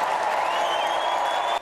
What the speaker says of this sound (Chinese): 台下掌声没停过